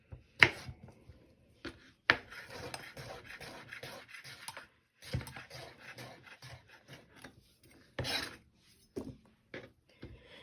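Knife chopping mango salsa ingredients on a board, a run of sharp irregular cuts with short pauses, near and fairly loud, with the fruit and vegetables scraped aside between bursts.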